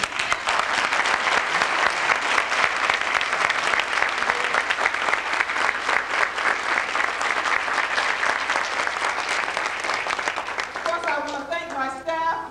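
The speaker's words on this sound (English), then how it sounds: "would you please stand so we can give you a round of applause?" A room at a city council hearing applauds task force members, loud continuous clapping that holds steady for several seconds before thinning out as a voice begins speaking near the end.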